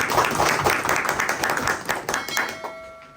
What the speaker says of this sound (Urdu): زوردار تالیاں آج کے زندہ کلام کے لیے